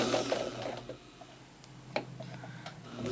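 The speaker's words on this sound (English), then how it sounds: "Now I am going to back stitch." A sewing machine back stitches a seam on an eight-point star quilt block, with a brief run of whirring followed by sparse, quiet ticks and clicks nearby.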